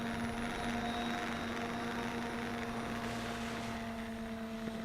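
A WLtoys V383 drone flies at high speed with a steady, high-pitched rotor whine and a constant buzzing hum, heard alone and at fairly even loudness throughout.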